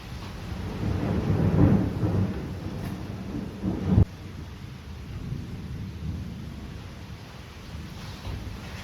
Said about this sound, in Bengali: বাইরে বৃষ্টি হচ্ছে সোনা, মেঘ ডাকছে